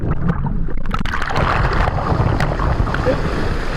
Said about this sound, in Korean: 파도가 이렇게 많이 치고